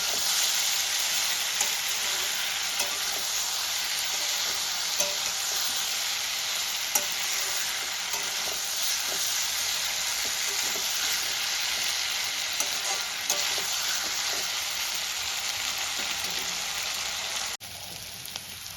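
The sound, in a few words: stirring frying potato, cauliflower and peas curry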